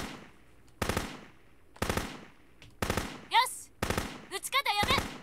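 Bursts of gunfire in the video game Muv-Luv Unlimited, sharp close volleys repeating about once a second, with squeaky high effects between the later shots.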